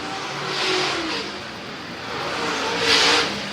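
Late model race cars circle the track at a Southern Swing finale in Richmond, Kentucky, engines roaring past in two swelling waves under a constant mechanical drone.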